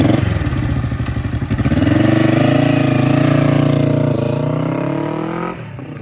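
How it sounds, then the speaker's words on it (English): A black Honda CB450 K1 motorcycle fitted with the black bomber K0 four-speed engine starts up and settles into a loud, close, throbbing idle that rises briefly and then steadies. "I'm going to start up this beautiful black Honda"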